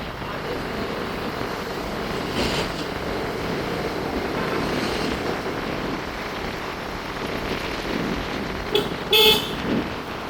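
A car pulls away from a highway stop near the Cartolim bridge in Goa. A steady rumble of passing traffic and wind continues throughout, and a few sharp horn toots come near the end.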